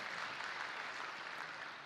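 Applause from a conference presentation audience, a steady wash of clapping held at an even level for about two seconds with no voices over it.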